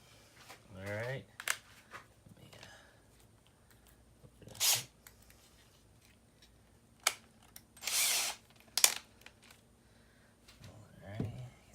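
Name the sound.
power drill drilling holes in kayak for seat kit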